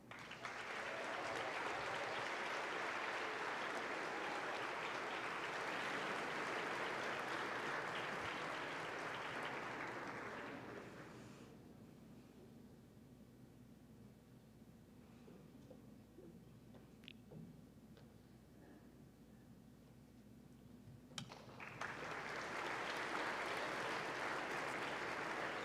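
A school honors day audience breaks into loud, sustained applause for an award recipient, fades to a quieter stretch of murmur and scattered claps, then swells into another full round of clapping.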